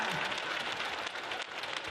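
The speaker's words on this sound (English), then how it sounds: "let's give them a massive round of applause as we welcome the Wheelies back to Palmy Arena" Crowd applause fills a basketball arena as Jets fans welcome the Wheelies back to Palmy Arena before a Manawatū Jets game, a dense, steady roar of clapping heard close and loud with no break.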